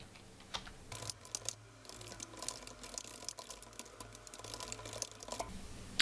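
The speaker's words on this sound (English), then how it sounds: "So let's type in the bullet points" Keys clatter on a computer keyboard in quick, uneven bursts with brief pauses, close and fairly quiet, over a faint steady background hum with no talking.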